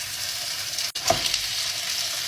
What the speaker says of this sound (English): now all we have to do is cook our beef patties